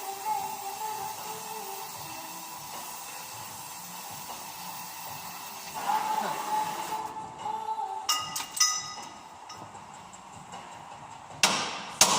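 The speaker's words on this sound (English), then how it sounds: "then I can beat out these U-bolt stumps" U-bolt stumps being hammered out of a heated MAN 4x4 truck's rear axle plates: a steady torch roar gives way to a few sharp, close metallic strikes, with no talking.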